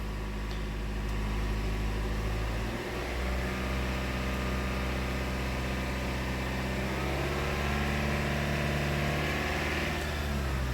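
A car engine with a low-input mass air flow circuit fault, still running in open loop, is held at a raised speed of about 2000 rpm, giving a steady, close, even drone with a slight shift in pitch partway through.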